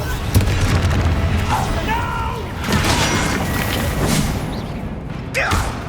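Incendio fire spells cast in Hogwarts Legacy, several booming bursts and whooshes scattered across the stretch amid other combat noise, with voices talking between the blasts.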